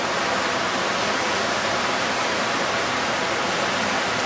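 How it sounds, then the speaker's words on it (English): A small waterfall on the Santiam River gives a steady, dense rush of falling water, loud and close, with no talking over it. "This is the Santiam River right here and uh, the cool little waterfall right there."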